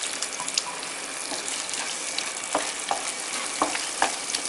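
Tomato rice masala sizzles and crackles steadily in a pan just after a light sprinkle of water, with scattered louder pops and stirring scrapes, no voices.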